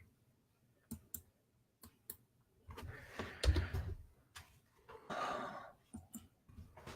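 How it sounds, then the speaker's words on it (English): Sparse clicks of keys on a computer keyboard come in small irregular bursts, fairly faint and close, mixed with some rustling handling noise in an otherwise quiet room. "Melissa, I'm going to, if it lets me, type."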